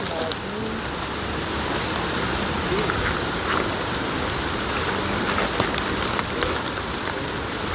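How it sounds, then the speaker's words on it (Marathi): Heavy monsoon rain pours in a Konkan village, a dense, constant hiss of drops hitting surfaces close by, with faint voices underneath. "अरे बापरे, केवढा पाऊस आला."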